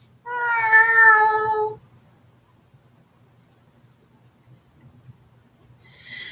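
One drawn-out meow, which may be a voice imitating a cat, rises then tapers down in pitch and volume over about a second and a half, followed by near silence.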